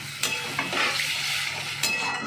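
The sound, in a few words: water added to frying tomato masala for paneer butter masala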